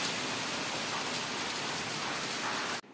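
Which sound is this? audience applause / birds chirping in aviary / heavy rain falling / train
heavy rain falling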